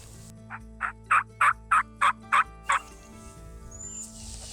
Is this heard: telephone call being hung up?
no